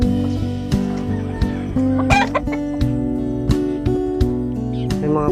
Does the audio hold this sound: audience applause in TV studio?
no